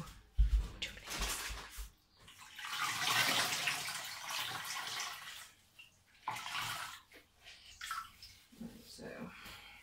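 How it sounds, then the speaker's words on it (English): Dyed bamboo velour fabric is wrung out, and water splashes and pours as it is squeezed, with stretches of dripping and quieter gaps. A person talks in places. "I'm going to wring that out and I'm going to put it on there"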